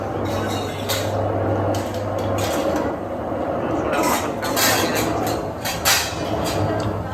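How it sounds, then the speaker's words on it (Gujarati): Metal utensils clink and clatter intermittently in bursts in a kitchen while vegetables and flatbread cook, with a low steady hum and background rumble underneath. "વાસણ ખોટવાઈ રહ્યા છે"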